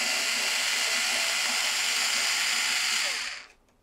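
A steady, loud electric screwdriver whirrs continuously while driving a screw into a SNOO bassinet, the motor spinning without catching before it cuts off abruptly near the end.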